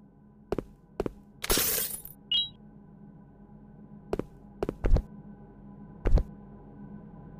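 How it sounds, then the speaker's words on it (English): Glass window shattering in a video game, a single loud crashing burst of breaking glass with a short tinkle afterward, set among scattered sharp clicks and thuds over a quiet low hum. "I should be able to break the glass now."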